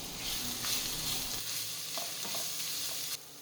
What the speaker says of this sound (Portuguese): Depois eu despejo a cebola ralada e vou deixá-la refogando.